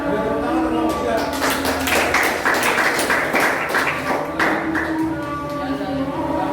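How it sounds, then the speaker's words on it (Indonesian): Applause for a student group at a school presentation, a short burst of scattered clapping that rises and fades over a few seconds, with voices murmuring underneath. "beri tepuk tangan untuk kelompok 3"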